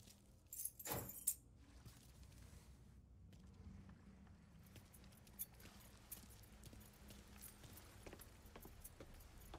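A brief, bright jangle of keys being grabbed in the Mafia III video game, a quick clustered rattle near the start, then a quiet low background hum.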